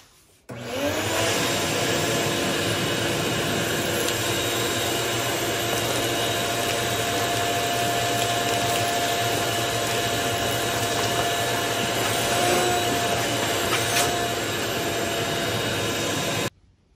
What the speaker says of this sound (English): this time the hose is coming directly out of the shop vac